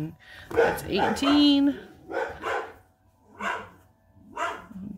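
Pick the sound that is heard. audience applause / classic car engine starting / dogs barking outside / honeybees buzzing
dogs barking outside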